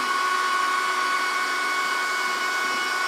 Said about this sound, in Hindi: देखो ये रहा ड्रायर